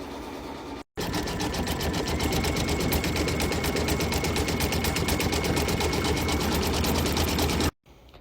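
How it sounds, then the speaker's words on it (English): An embroidery machine stitching a satin stitch around an appliqué on a beach bag pocket panel in the hoop, a loud, fast, steady mechanical rattle that starts abruptly, runs continuously for several seconds, then stops. "I'm going to return this to the machine and I'm going to get the satin stitch all the way around the potato"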